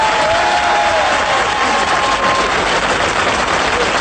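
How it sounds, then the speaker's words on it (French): Studio audience on a 1989 French television show breaks into loud, sustained applause, a dense wash of clapping that fills the whole stretch without letup. "je vous demande d'applaudir Richard Boranger."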